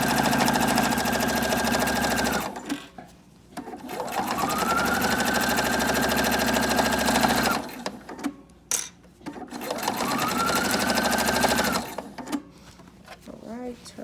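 A sewing machine stitches a Bible cover in three long, fast bursts of mechanical whirring, separated by short pauses filled with handling noises and quiet talk, all heard up close.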